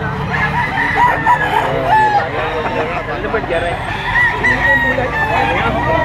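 A Kanawayan gamecock rooster crows loudly and repeatedly amid the bustle of a busy gamefowl market, with clucking birds and murmuring voices of buyers and sellers in the background.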